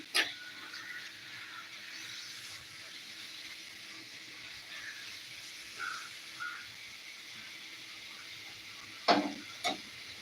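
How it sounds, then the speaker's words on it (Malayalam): Spicy toddy-shop-style tuna curry simmers in a clay pot, a faint steady sizzle with a few soft clinks and stirring sounds. "നമ്മൾ ചട്ടിയിൽ ഇവിടെ വെച്ചുകൊണ്ടിരിക്കുന്നത് കിടിലം അടിപൊളി ഒരു ചൂരക്കറിയാണ്"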